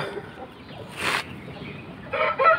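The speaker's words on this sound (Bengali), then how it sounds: "বিগ সাইজ মোরগ এটা 28 সাইজের মোরগ" A big-size Indian Line Theekar Aseel rooster, ten months old, gives short loud clucking bursts, one near the middle and a stronger harsh call at the end, against quiet room noise.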